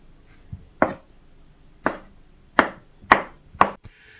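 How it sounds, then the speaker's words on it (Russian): Knife chopping boiled tongue into cubes on a board: five or six separate sharp knocks, spaced unevenly about half a second to a second apart, close and fairly loud with quiet in between. "берем отваренный язык и режем его кубиком"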